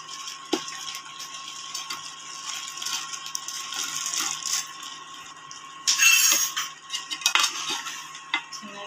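Fried gobi (cauliflower) being tossed with red chilli powder and spices in a bowl, with a spoon clinking and scraping against the bowl in steady bursts, close and fairly quiet, and no voices.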